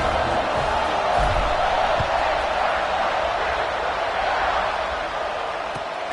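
A dense stadium crowd roars steadily at the kickoff of an Ohio State versus Florida college football game, a loud, continuous wash of cheering with no breaks.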